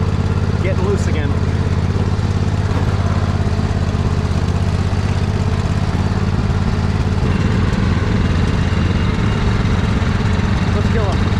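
Riding lawn mower engine running steadily through mud, a loud continuous low drone with a loose choke linkage and blue smoke, holding constant throughout.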